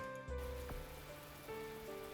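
Rain falling in the visual novel The Fruit of Grisaia, a steady soft patter on surfaces beneath quiet game music tones, with no voices.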